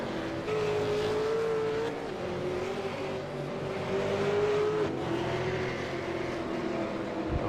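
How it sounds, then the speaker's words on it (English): V8 Supercar race cars roar around the Road Atlanta circuit, a continuous engine drone with revving and shifting pitch as cars run close together, loud and steady throughout, with no voices. "The Redback Racing Team car there."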